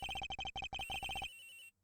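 A cell phone ringtone in Ace Attorney Investigations plays a lullaby melody as a quick run of bright repeated beeping notes, clear and close, then cuts off into near silence.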